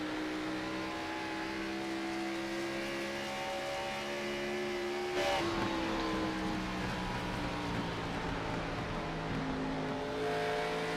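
Race car engine heard from a front bumper camera, droning loud and constant as the driver lifts off and gets back on the throttle, pitch dipping and climbing in steady waves with wind rush throughout.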